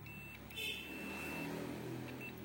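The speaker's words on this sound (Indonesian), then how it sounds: "kalau plus sama minnya ini merah sama hitamnya ini nyambung, dia akan bunyi begini ya" A multimeter's continuity beep sounds while testing a blower switch for a three-speed car AC, a faint steady tone recorded through a phone microphone over a low background hum, with no talking.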